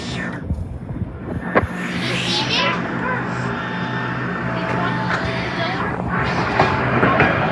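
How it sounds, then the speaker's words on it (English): A westbound train runs by on rails at Drexel Park, a continuous close rumble with rhythmic clatter and occasional high squeals, while a voice briefly speaks over it. "Yep, the westbound train."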